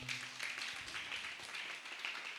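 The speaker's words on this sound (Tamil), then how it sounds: "நல்ல கைத்தட்டி கர்த்தரை ஸ்தோத்திரம் பண்ணுவோம்" A church congregation clapping their hands in praise, a soft, continuous patter of many hands in a steady rhythm, fairly faint and distant.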